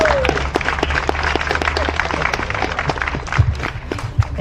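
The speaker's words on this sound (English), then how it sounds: "Give her a big round of applause." An outdoor crowd at a July 4 time capsule ceremony applauds a Rhode Island state senator, with loud, sharp, closely spaced claps continuing throughout and low rumbling underneath.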